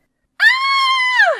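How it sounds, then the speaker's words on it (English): A woman lets out a single sustained high-pitched shriek of fright, loud and close, rising sharply, holding steady for about a second, then sliding down and trailing off. "What on earth are you shrieking about at this hour?"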